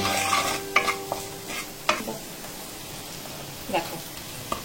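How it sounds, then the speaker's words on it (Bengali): A spoon stirs the filling in a hot pan with salt and chili in it. The stirring comes as several scraping strokes at an irregular pace over a soft continuous sizzle, and a voice talks at moments. "ভালোভাবে নাড়াচাড়া করে নেব।"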